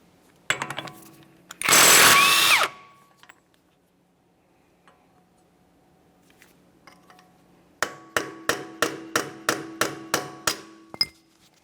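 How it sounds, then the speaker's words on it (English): Sharp metallic hammer blows on a punch, driving a CV axle free of the wheel bearing on a 1994-1997 Honda Accord: a few scattered strikes, a burst of spraying noise, then a rapid series of about ten evenly spaced strikes. "Use a hammer and punch to break the axle free from the wheel bearing"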